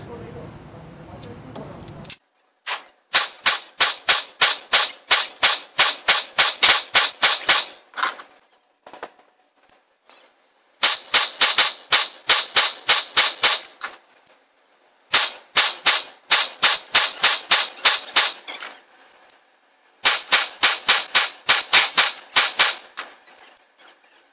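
A Walther PPQ SC compact pistol fired during a high round-count endurance test: rapid strings of sharp, loud shots in four long volleys, each about a dozen rounds, with brief silent pauses for reloading.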